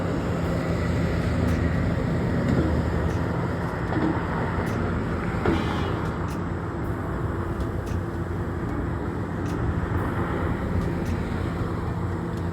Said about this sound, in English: Here comes another Grand Central train, the electric ones.